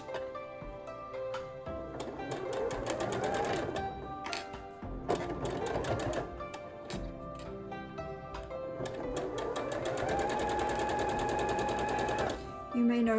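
Sewing machine stitching fabric while piecing a star quilt block for a holiday-themed quilt, running in steady rapid bursts with brief pauses, with music playing throughout.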